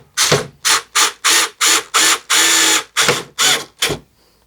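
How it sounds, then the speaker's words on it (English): A Phillips head screwdriver drives silver bolts into a Toyota Tacoma grille, making about nine rapid, evenly spaced ratcheting bursts up close, with no talking. "Now we're going to take our Phillips head screwdriver and we are going to put on the silver bolts"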